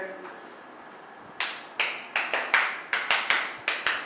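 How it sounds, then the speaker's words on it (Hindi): A classroom group claps hands in a loose rhythmic pattern, about nine sharp, loud claps in quick clusters after a quiet start. "सब लोग एक बार ना ताली बजाएं ना जोर से"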